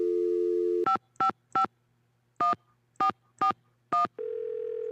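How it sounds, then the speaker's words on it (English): Telephone dialing in a Nancy Drew video game: a steady dial tone, then seven clean tone beeps in an uneven rhythm, followed by a ringing tone. "the only thing that's left to do is to call Franklin Rose"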